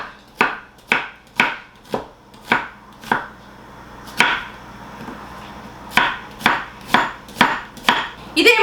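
A knife chops onions lengthwise on a board, steady sharp strikes in clusters of regular cuts with a pause midway, close and clear with no talk.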